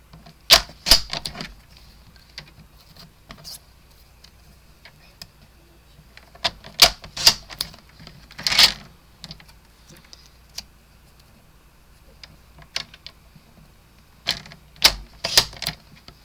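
A paper trimmer cuts strips of cardstock for a handmade card, giving sharp isolated clicks and slicing snaps in irregular bursts separated by quiet gaps, close and fairly crisp.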